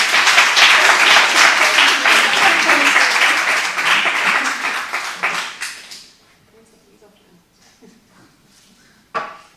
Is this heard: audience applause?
yes